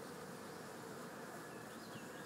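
Honeybees buzz steadily around a nuc set up during a trapout, a faint, continuous hum of many insects with no talking.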